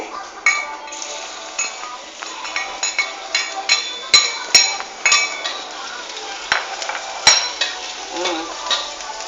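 Minced garlic frying in a pan for Bulakenya-style pork giniling, a steady sizzle broken by repeated clinks and scrapes of a utensil stirring against the pan, close and fairly loud with no talking.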